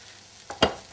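Vegetables frying in a pan get stirred, with two quick scraping swishes near the end over a faint background sizzle and no talking.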